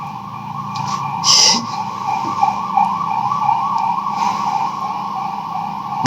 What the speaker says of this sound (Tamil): இது போலீஸ் சைரன், ஹைவே பெட்ரோல்